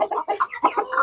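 Chickens at a poultry sale, with roosters and hens together, cluck in quick overlapping bursts close by, several birds calling at once with no talk over them.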